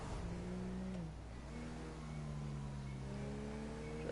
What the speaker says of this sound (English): Just driving normally on the road to get somewhere